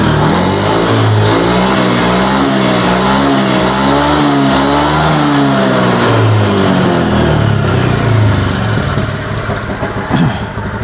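A scooter-type automatic motorcycle engine is revved with the throttle, loud and close, its pitch climbing and falling in repeated sweeps across the whole span with no talk over it.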